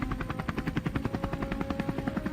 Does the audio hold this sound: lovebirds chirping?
no